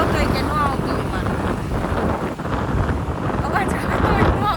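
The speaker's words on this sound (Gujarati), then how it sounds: "પવન આવે છે" Wind buffets the microphone while riding an Activa scooter on a sunny road, producing a loud, continuous, rumbling roar throughout.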